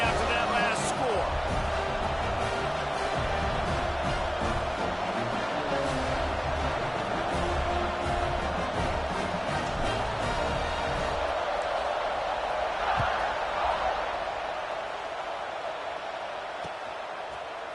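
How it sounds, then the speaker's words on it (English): A steady, loud crowd roar fills a stadium in the NCAA 26 college football video game after a two-point conversion score, continuous throughout and easing slightly toward the end, with commentary voices over it. "this crowd is buzzing after that last score"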